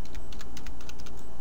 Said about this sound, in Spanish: Vamos a escribir